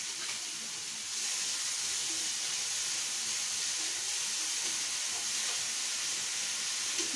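Onion and chili paste sizzling in a pan with frying ivy gourd, a steady broadband hiss that jumps louder after the first second and holds evenly throughout, with no talking.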